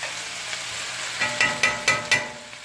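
Shrimp cooking in a coconut curry, a soft continuous sizzle overlaid by five quick scraping stirs in a regular rhythm near the end, close and moderate, no talking.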